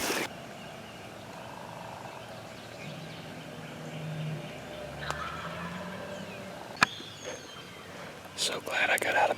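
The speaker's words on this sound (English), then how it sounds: "I've heard no less than 30 gobbles." Wild turkey gobblers calling at dawn on a wooded hillside before hunting season, several rattling gobbles ringing out from a distance over a faint quiet background, with a sharp nearby click and rustling close by toward the end.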